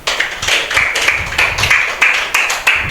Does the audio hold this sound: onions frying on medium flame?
no